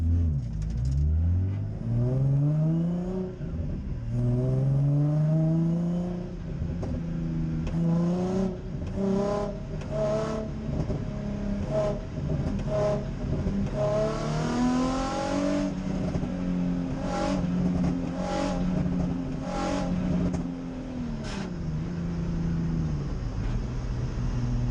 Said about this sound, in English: I'm just going to let off and then stab the throttle again and see if there's a difference there